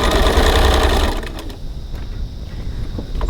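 A sewing machine stitching a fabric seam at a 2.4 stitch length, a fast loud whirring run that stops after about a second, leaving quieter handling noises.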